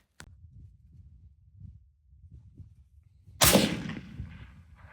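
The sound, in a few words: M40 rifle shot fired at 1,000 yard target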